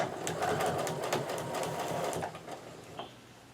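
A sewing machine stitches quilt strips with a fast steady mechanical chatter of needle strokes that slows and stops near the end, close by with no talking.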